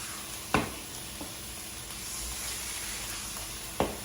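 Chicken thighs seasoned with salt, pepper and crushed red pepper saute in a pan with a soft steady sizzle, broken by a couple of sharp stirring clacks.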